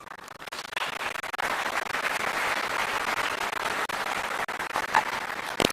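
An audience at a live ceremonial celebration applauds steadily and evenly for several seconds, a dense wash of clapping with no pauses.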